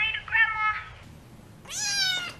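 A cat meows twice in a Meow Mix commercial, a clear, close, drawn-out cry followed by a higher rising meow after a short pause.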